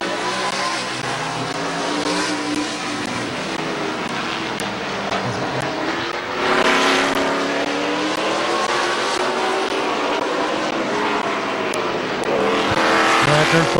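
Race cars lapping the oval at Midvale Speedway near the end of a feature, engines roaring and whining steadily with rising and falling pitch as the pack passes close by, swelling louder midway and at the end, with no talk.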